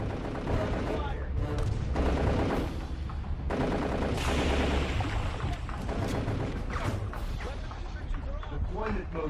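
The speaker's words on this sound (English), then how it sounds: "We're under fire." Dense, continuous gunfire and battlefield explosions fill a Darkest of Days video game scene, a loud sustained barrage with heavy low rumble and overlapping shots, while soldiers' radio-style voices speak over the combat.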